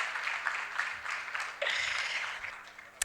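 Audience at a youth forum of innovators, entrepreneurs and investors applauds an introduced speaker with continuous moderate clapping. The clapping swells briefly midway and ends with one sharp knock.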